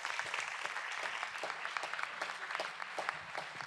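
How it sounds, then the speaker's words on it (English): Applause from attendees at a city council meeting, a steady patter of many hands clapping at moderate distance, sustained evenly throughout with no voices over it. "let's give them a round of applause"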